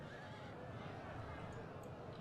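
Horses neigh amid a dense, steady battle din in the medieval strategy game Medieval Kingdoms 1212 AD, with a brief whinny rising out of the continuous rumble.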